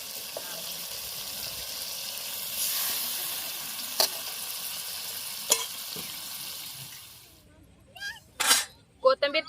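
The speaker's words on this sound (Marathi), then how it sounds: "पाणी ओतून घेते आता" Water poured into a hot pan of cooking fish sets off a broad, loud hissing sizzle that carries for several seconds, then cuts off and gives way to a few short, louder bursts.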